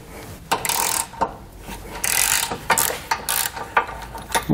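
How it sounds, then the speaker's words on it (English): 18 mm socket and wrench breaking loose tow hook bolts on a 2017 Chevrolet Colorado, several close, loud bursts of ratcheting clicks and metal scraping with brief pauses between, no talk. "We're just going to use an 18 millimeter socket and wrench just to get these broken loose."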